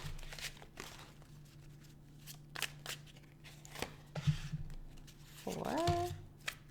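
Tarot cards being shuffled by hand during a reading, a quiet, soft riffling and sliding of cards with scattered light taps, fairly close and low in level, ending in a brief louder flurry.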